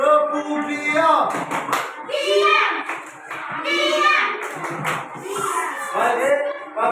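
Schoolchildren in an Indonesian classroom do a rhythmic 'tepuk diam' clapping routine, bursts of quick hand claps mixed with chanting young voices, while children talk and call out throughout.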